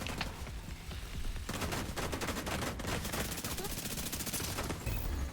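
Shotgun blasts and rapid gunfire in the video game The Division 2, a dense run of close, loud shots continuing almost without pause across the clip.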